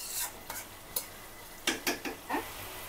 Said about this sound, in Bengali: তার জন্য হালকা করে ভেজে রাখছি।